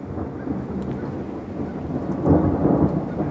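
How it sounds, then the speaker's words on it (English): Deep rolling thunder rumbles steadily through a thunderstorm with lightning and rain, loud and continuous, swelling toward the end with no voices. "There was this cloud to cloud lightning, and I got that too."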